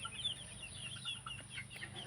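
Young chickens kept in a small backyard coop cluck softly, a faint scatter of short, chirpy calls over a low background hum with no one speaking.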